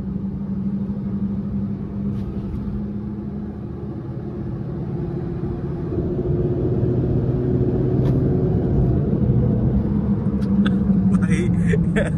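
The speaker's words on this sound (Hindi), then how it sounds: "रेल की तरह आवाज कर रही है बैरिंग गए हुए हैं" A Chevrolet Beat diesel engine runs with a steady low rumble and a coarse, rattling drone from worn bearings that builds slightly, with someone talking over it.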